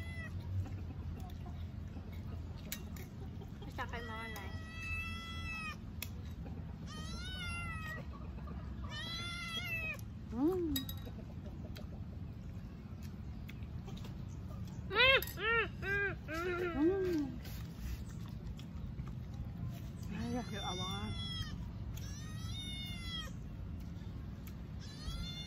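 Cat meowing repeatedly near the microphone, several drawn-out calls in irregular bursts over steady low background noise, with one louder stretch partway through.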